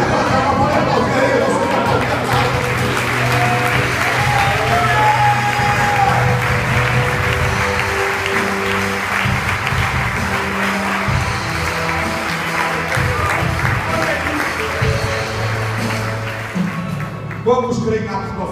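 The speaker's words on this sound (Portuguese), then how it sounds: "pode aplaudir" A church congregation claps during worship, a broad wash of applause and crowd noise over loud ongoing music and voices, steady through most of the stretch before easing off.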